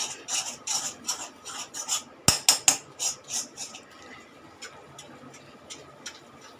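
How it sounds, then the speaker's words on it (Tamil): A spoon scrapes and stirs milk Mysore pak mixture being roasted over a low flame in a pan, giving repeated close metallic scraping strokes with a brief cluster of sharper clinks midway, then softer fading scrapes. "இப்போ நம்ம ஃப்ளேம் வந்து ஸ்லோ பண்ணிடலாங்க கைவிடாமல் இதை வறுத்துக்குவோம்"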